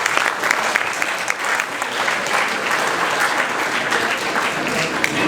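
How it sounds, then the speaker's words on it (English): A dining hall audience applauds the kitchen staff after a dinner at an after-dinner speeches event, a dense, steady wash of many hands clapping for several seconds, loud and close with a few faint voices mixed in. "Can we give them another round of applause, please?"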